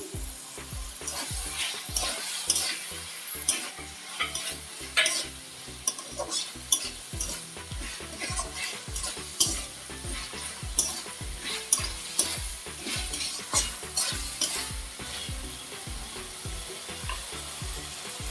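Chopped tomatoes frying in a pan for a minced-meat khichuri, a steady close sizzle with repeated stirring scrapes and clatters running throughout, no voices.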